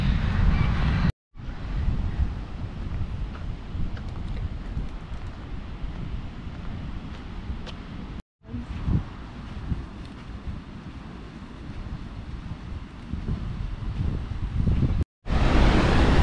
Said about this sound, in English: I have the wind muff on, so I have a really strong wind coming through